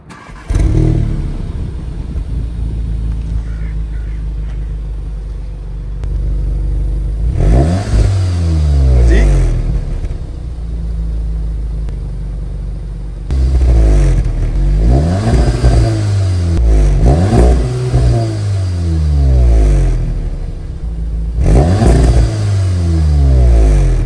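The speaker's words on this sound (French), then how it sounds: "je vais démarrer la voiture" A car engine turns over and revs repeatedly, loud and close, with rising and falling bursts of acceleration separated by steadier idle stretches.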